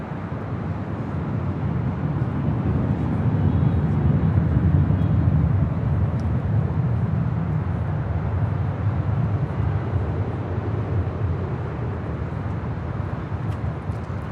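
A WestJet Boeing 737-700 jet departing from Los Angeles International Airport, a heavy, continuous low roar that swells and slowly fades, rumbling throughout with no voices.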